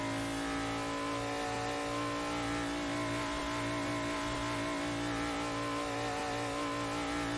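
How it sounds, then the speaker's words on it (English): A car engine revs with a steady, droning note on Tokyo's Shutoko Expressway, carried loud and continuous over a thick music-like tonal bed, with no speech. "I think the engine note sounds a lot better."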